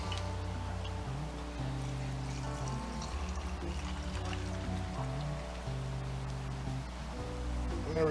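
Liquid brine pours steadily into a 64-ounce jar, a continuous close gurgling trickle with shifting pitch as the jar fills, with no talking.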